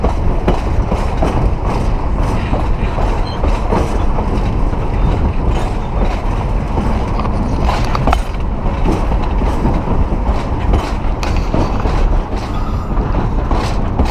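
Tourist train rolling along rails near Virginia City, Nevada, a steady close rumble and rattle of the cars with faint clickety-clack and mechanical clanks running throughout, no voices.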